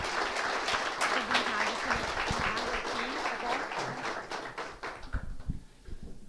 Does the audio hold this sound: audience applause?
yes